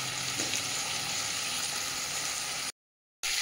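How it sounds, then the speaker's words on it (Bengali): Boiled yardlong beans sizzle steadily in a hot pan over lowered gas as they are stirred into the vegetable mix, a continuous close frying hiss that cuts out briefly near the end. "এরপর আমি এই সেদ্ধ করা বরবটিগুলো মিশিয়ে দেব।"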